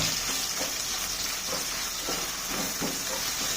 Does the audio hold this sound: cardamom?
yes